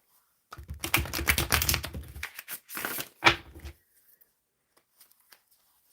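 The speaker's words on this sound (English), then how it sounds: "Spirit, I am shuffling for Isha." Tarot cards shuffled in a few quick riffling bursts, crisp and close, followed by near silence with faint light taps.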